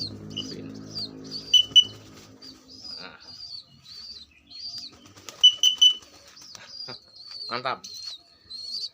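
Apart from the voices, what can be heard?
young pigeons flying, flapping wings and cooing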